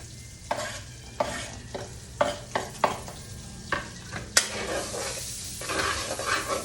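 Garlic sizzling in melted butter for buttered shrimp, a continuous crackling fry broken by repeated scraping stirs of a utensil against the pan, close and fairly loud with no one speaking.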